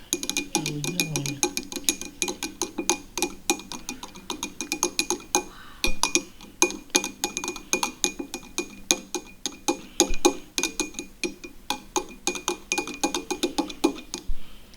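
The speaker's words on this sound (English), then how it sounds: "see what it does to the Coke as I stir" A spoon clinking against a glass of Coke while stirring, steady rapid metallic ticks repeating throughout, close and bright, with no talk.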